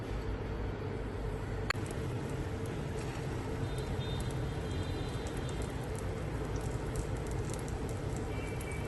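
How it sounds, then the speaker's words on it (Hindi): Chicken shami kababs frying in hot oil, a steady dense sizzle and hiss that holds evenly throughout, close and fairly loud with no talk. "ये देखें नहीं, माशाल्लाह से ज़बरदस्त से हमारे कबाब फ्राई हो रहे हैं।"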